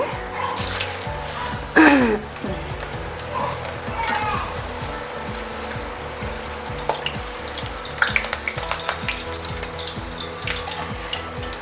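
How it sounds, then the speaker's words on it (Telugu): Potato french fries crackle and sizzle in hot oil, a steady bubbling hiss with a sharp burst near the start as pieces drop in, plus occasional clinks and scrapes of utensils. "ఆయిల్ పెట్టాను, వేడైందండి. ఇప్పుడు ఫ్రైస్ వేసేస్తున్నాను."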